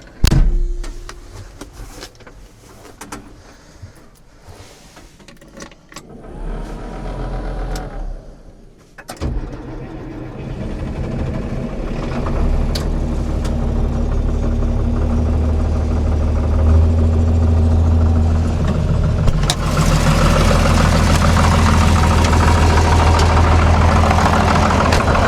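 A tractor cranks with some clanks and rattles, then catches and settles into a steady, loud, low idle that rumbles on alone, growing slightly rougher toward the end.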